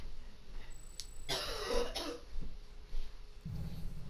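A person gives one sharp, close cough, a brief harsh burst with a throat-clearing edge, against a low background hiss that carries on afterward.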